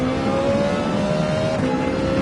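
A Ferrari race car engine accelerating in Gran Turismo 7 at Willow Springs, a loud, steady, close engine drone with a sustained tone that rises slightly, and no talk over it.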